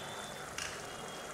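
Egg curry gravy with half-cooked onions bubbles in a pan, a steady close sizzling simmer with soft popping throughout the short stretch.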